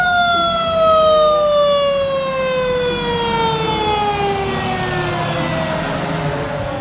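A toy fire truck plays its electronic siren, a loud, continuous wailing tone that glides slowly downward in pitch, close by and unaccompanied by speech.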